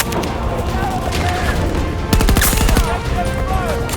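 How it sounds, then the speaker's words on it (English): Rockets and gunfire boom in a video game battle, loud continuous explosions and rapid bursts of fire, with a bigger blast cracking through near the middle, and a voice speaking over the din. "Obliterate a single target with a rocket launcher."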